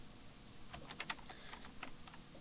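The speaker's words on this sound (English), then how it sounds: "I'll then hit my up arrow key on my keyboard" Typing on a computer keyboard while writing CSS code: a quick run of light key clicks, fairly close but quiet, with irregular spacing and a few slightly louder taps.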